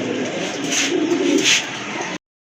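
A female racing pigeon coos at close range in a steady, throaty burst lasting about two seconds, then stops abruptly, with no voices nearby.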